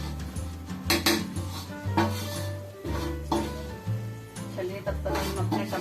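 Litti stuffing being spooned into a bowl, with repeated clinks and scrapes of a metal spoon against the dish, close by, under a person talking.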